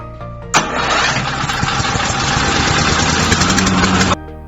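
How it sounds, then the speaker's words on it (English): A leaf vacuum machine's engine is started by its ignition switch. After a sudden loud burst, it runs at a steady, close, rough roar for several seconds and then cuts off abruptly. "Secondly, turn on the ignition switch."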